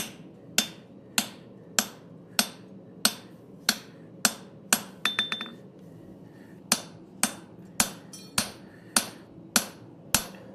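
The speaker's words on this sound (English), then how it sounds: "I'm throwing my hammer at that fuller like a rock" Sharp metallic hammer blows on a fuller over hot steel, struck at a steady rhythm, about a dozen ringing strikes with a brief flurry of quicker taps midway.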